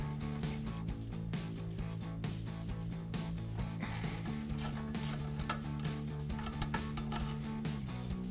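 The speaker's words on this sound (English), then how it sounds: "So we use our 13mm socket on that side." A 13mm socket on a ratchet undoing a brake caliper guide pin bolt on a 2014-2018 Chevrolet Silverado, giving steady rapid mechanical clicking close up that runs without pause for the whole stretch, with no speech.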